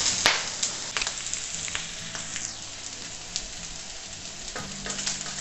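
Chopped onions and six cloves of garlic fry on a plough disc pan beside bacon and sausage, giving a steady crackling sizzle with occasional metallic clinks and stirring scrapes, and no speech.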